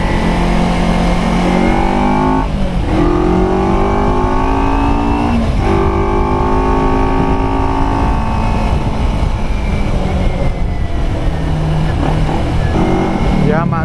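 A 2009 Kawasaki Ninja 250R Limited Edition motorcycle rides along a busy road, its engine droning steadily close by with rising and falling pitch through gear changes, and traffic noise fills the background.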